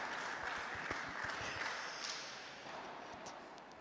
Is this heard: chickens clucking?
no